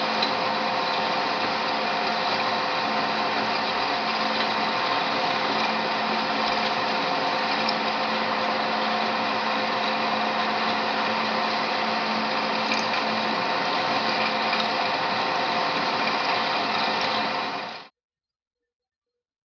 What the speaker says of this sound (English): You must always peck drill to ensure proper chip evacuation when drilling.